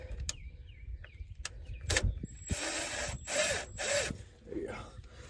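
A screwdriver worked against a quick-connect fuel line on a Bronco, giving close metallic clicks and scrapes, then longer grinding, rattling bursts, with a brief voice underneath.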